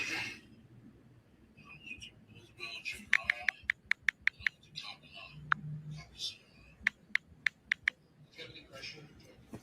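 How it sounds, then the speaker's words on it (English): Fingers tapping on a phone screen while texting make a quick run of sharp, light clicks in two bursts, close and fairly crisp, mixed with soft whispery voices and low background murmur. "You can hear him texting."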